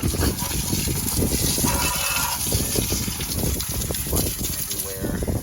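A water hose sprays and gushes steadily over a car engine, a broad continuous hiss and splatter that fills the whole stretch, with a voice speaking faintly underneath.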